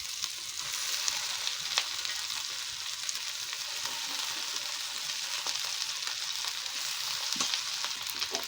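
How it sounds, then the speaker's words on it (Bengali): Taro leaves frying in hot oil give a steady, dense sizzle with small crackles, close and continuous, with no voices. "খুব সুন্দর এরকমভাবে তেল ছেড়ে দিলে আমরা এর মধ্যে শাকগুলোকে দিয়ে দেব।"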